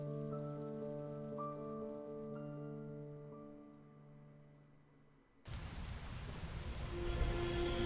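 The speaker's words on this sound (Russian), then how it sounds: "будет, видимо, очень обильный дождь" In the video game Heavy Rain, quiet sustained tones fade, then a sudden loud wash of heavy rain pours in, steady and close, with a low rumble growing beneath it.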